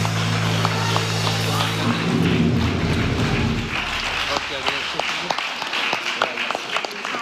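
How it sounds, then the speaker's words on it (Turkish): An audience at a Turkish association event gives a big welcoming round of applause, a dense wash of clapping that continues over a low hum and some background talk and crowd noise. "Alkışla alalım, alkışla alalım."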